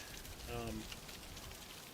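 Steady rain patters on surfaces in the Farming Simulator 25 farm world, a soft continuous hiss with a faint tonal voice-like murmur briefly rising over it.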